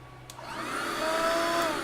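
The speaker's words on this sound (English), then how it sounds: "And let's see if the sealer part works." A vacuum sealer runs its seal function, with a steady motor whine and hum rising slightly in loudness over a brief stretch, close to the microphone.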